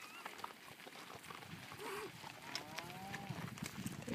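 Yearling calves moo while being herded down a road around a cattle guard into a gate, with several faint, drawn-out calls from a distance over quiet outdoor background noise.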